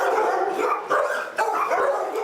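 Several dogs at an animal shelter barking continuously, a dense, overlapping chorus of barks and yips that sounds close, loud and unbroken.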